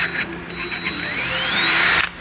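A power drill bores a hole into a brake caliper to prepare for a helicoil thread repair, a steady whining motor with a rising pitch toward the end, close and fairly loud, with no talk.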